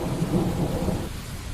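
Heavy rain with a low rumble of thunder pours steadily throughout, a dense, continuous storm wash used as an effect in a dark suspense audio drama.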